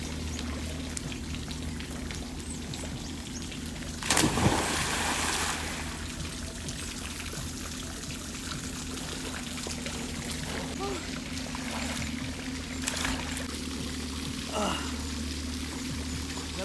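Water pours and splashes during an outdoor bath, with a loud gush around four seconds and a few smaller splashes later over steady background noise and voices.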